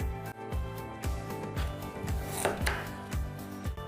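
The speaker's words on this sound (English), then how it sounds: "So here we are peeling and chopping potatoes." Rhythmic knife chops through potatoes on a cutting board, about eight firm strikes at a steady pace, close by, over soft background music.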